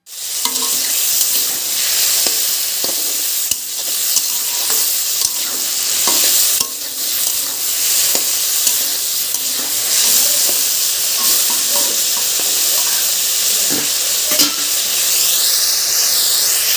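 Finely chopped potatoes fry in a wok and end up burnt, with a loud, continuous sizzle and hiss, broken by occasional scraping stirs and clinks, with no talking.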